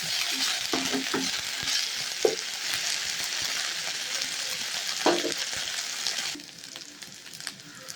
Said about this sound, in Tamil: இப்போ இஞ்சி பூண்டு பேஸ்ட் 1 ஸ்பூன் சேர்த்துக்கலாம். ஏன்னா நல்லா இந்த பச்சை வாசனை போகிற அளவுக்கு வதங்கட்டங்க.